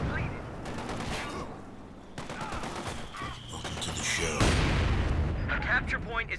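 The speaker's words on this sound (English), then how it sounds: "That's the rifle grenade from the fighting position" Rifle grenade blast fired from a fighting position in Company of Heroes 2, set amid steady gunfire and artillery thumps, with a loud burst near the end of the busy battle mix.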